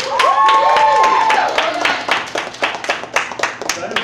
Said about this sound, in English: Another round of applause for Daria.